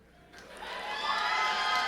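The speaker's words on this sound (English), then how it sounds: "Todd Clay getting a nice ovation from the crowd" Arena crowd at a TCB 50 fight night cheers and whoops as fighter Todd Clay walks to the ring, the roar swelling from a quiet start into a sustained, fairly loud ovation.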